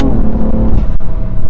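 BMW M3 Competition F80 with DCT gearbox pulling hard under acceleration, its engine loud and close with a dense rising drone and a brief gap like a quick gear change.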